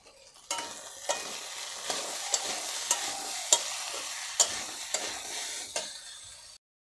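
Potatoes stir-fried in a pan for an egg and potato kuchla dish, a soft steady sizzle broken by about eight sharp scrapes of the spatula against the pan at uneven intervals, close up, ending abruptly.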